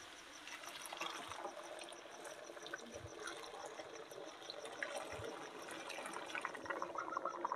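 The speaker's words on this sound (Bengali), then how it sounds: "এবার দেখো গরম জলটা আমি দিয়ে দিলাম" Hot water poured into a pot of mutton ghugni cooking in a village kitchen, a steady soft stream and splash that runs continuously for several seconds, fairly quiet and close, with no talk.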